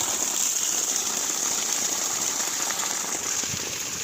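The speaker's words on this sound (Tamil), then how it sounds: "அப்பயும் தண்ணி வந்து தான் இருக்குது" Water gushing steadily from the outlet of a 3-inch 1200W BLDC solar pump irrigating a 3-acre drip system, a continuous close, loud rushing hiss with no break.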